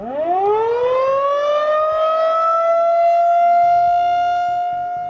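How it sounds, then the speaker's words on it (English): A loud outdoor tornado warning siren in Edmond winds up from low to a steady high wail and holds the tone, alone and continuous. "emergency management may sound the outdoor warning devices, commonly known as tornado sirens"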